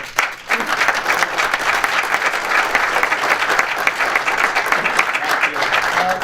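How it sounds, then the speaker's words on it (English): A convention audience of soccer alumni and coaches applauds coach Jim Lennox, with sustained, even clapping from a sizable crowd throughout. "he deserves a big round of applause"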